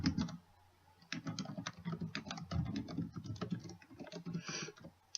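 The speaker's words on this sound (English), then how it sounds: "I'm going to type a new title in now" Typing on a computer keyboard while entering a chart title in a spreadsheet program, with steady quick close-up key clicks in irregular bursts and short pauses, quiet and alone.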